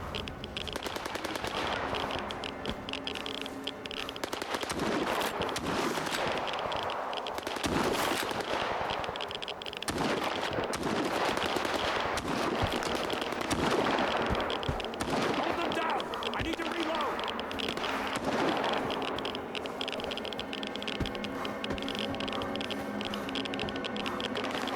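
Automatic gunfire in the arena of S.T.A.L.K.E.R. 2: Heart of Chornobyl, with dense, loud rattling bursts of shots running almost nonstop and some talk mixed in.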